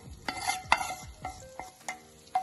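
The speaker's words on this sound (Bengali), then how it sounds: "এবার এই ভাজা আলমন্ড আর কাজুটাকে মিশিয়ে দিলাম গাজরের হালুয়ার সাথে।" Fried almonds and cashews being stirred into carrot halwa in a pan, a series of distinct scraping stirs with soft sizzling beneath, close and moderately loud, no talking.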